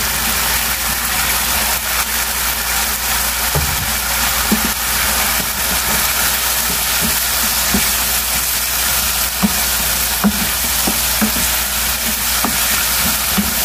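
Cabbage frying and being stirred into shimla mirch chicken masala in a hot pan, a steady continuous sizzle with faint scraping stirs throughout and no talking.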